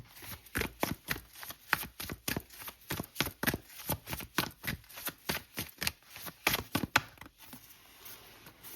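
Tarot cards are riffled and shuffled by hand in quick, rhythmic bursts of crisp slapping and flicking, about two per second, close and fairly quiet with no talking.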